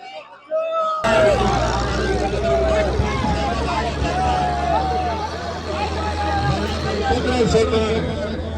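Tractors, one a 5.7 model, compete in a pulling contest at Bhakkar, their engines giving a steady low rumble amid the continuous noisy hubbub of a large outdoor crowd, with a voice occasionally calling out over the din.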